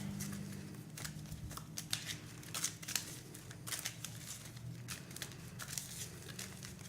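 A deck of playing cards is shuffled during a competitive card game, giving repeated crisp riffling and snapping bursts over a low steady background hum, moderately close with no talk over it.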